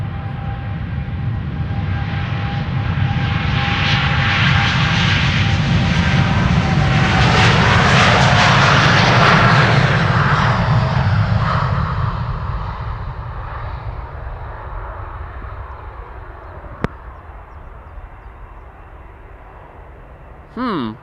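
Boeing 787 Dreamliner taking off from Amsterdam Schiphol Airport, its jet engine roar swelling loud and close, peaking, then fading into the distance with a brief click near the end.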